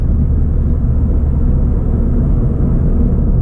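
A Ford Fiesta ST with a small turbo, its passenger motor mount worn out, cruises a backroad at night. Heard from inside the cabin as a loud, steady low engine rumble with road drone, with no change in pitch.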